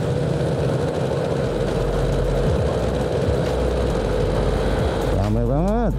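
A rare Yamaha TZR 250 two-stroke motorcycle runs with a steady, buzzing engine drone throughout, climbing into a rising rev near the end while someone talks over it.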